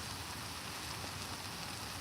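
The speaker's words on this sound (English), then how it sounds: "Ha, it's raining." Rain falls in a steady, even hiss on surfaces outdoors during a walk-and-cook outing with a trangia stove, a close, continuous wash with no voices.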